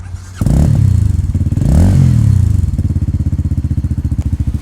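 A Paso XF300 300cc retro scrambler motorcycle cranks and fires up, briefly revving before settling into a loud, close, rhythmic thumping single-cylinder idle.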